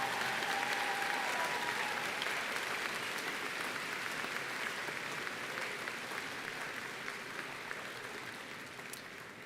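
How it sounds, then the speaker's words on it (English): Commencement ceremony crowd giving a last round of applause for School of Art and Design graduates at Alfred University, a sustained, distant-sounding hall of clapping that slowly tapers. "Could we have one last round of applause for the School of Art and Design graduates?"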